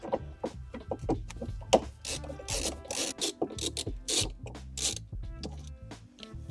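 Scraping, rasping handwork on the rear trunk trim of an R53 Mini Cooper, where Phillips screws are being unscrewed; irregular close rubbing strokes and clicks continue throughout at moderate volume, with no talking.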